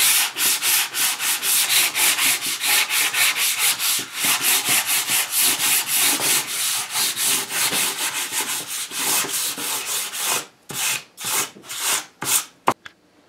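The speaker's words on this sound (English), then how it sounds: "Not really trying to sand it, just want to get any rust spots off of it" Hand sanding a wooden sign between polyurethane coats produces close, steady back-and-forth scratchy strokes in a quick rhythm, pausing into a few slower, separate strokes near the end.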